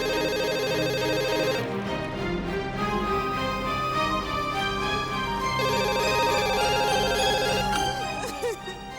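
A mobile phone rings repeatedly in a steady electronic pattern, loud and continuous, with music-like tones and little else.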